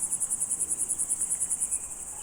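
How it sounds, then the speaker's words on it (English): Grasshoppers stridulating in a meadow, a high, evenly pulsed chirping repeated about seven times per second, steady and close, then fading slightly at the end. "Grasshoppers live in the meadows and are also looking for love. Friction generates the chirping sound that brings partners together."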